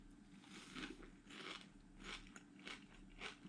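Crunchy milk foo yung made with vermicelli is eaten close up, giving a steady series of crisp bites and chews that repeat about every half second, with no talking.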